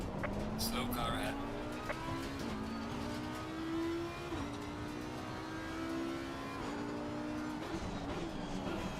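Race car engine in Assetto Corsa Competizione at Donington Park, a steady whining drone that climbs and steps through repeated gear shifts, with a voice faintly present.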